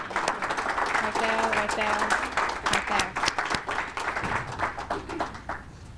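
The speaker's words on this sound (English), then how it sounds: "and just a round of applause." A seminar audience applauds a student capstone team after their project presentation, steady dense clapping filling the room for several seconds before thinning out near the end, with a voice speaking briefly over it.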